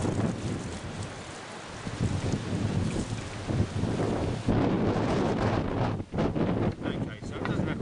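Water splashes and runs over a tray used for sprouting grain as it is rinsed out, a continuous, close, rushing wash with uneven surges and brief dips throughout.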